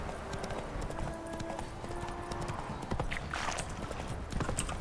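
Hooves of Roach, the horse in The Witcher 3, clop in a steady galloping rhythm, close and prominent over game music and ambient noise for the whole stretch, with no voices.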